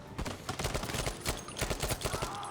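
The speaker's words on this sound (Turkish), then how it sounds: "Adam patladı ve birileri sıkıyor bana şu an." Battlefield V gunfire crackles in rapid, uneven bursts of close shots that overlap into a dense fusillade for a couple of seconds, with no speech.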